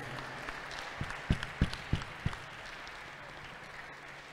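Scattered handclaps from a small audience at an Italian lead climbing championship award ceremony in Milan, a few sharp claps close by over a soft murmur of background noise, short-lived and thin.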